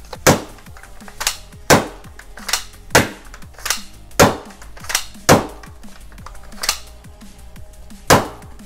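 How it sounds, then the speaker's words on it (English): Z-tip foam darts are rammed one by one into an X-Shot Reflex 6 blaster, making a regular series of sharp, loud plastic clacks about every half to one second, with no one speaking. "I'm gonna ramrod each of these in"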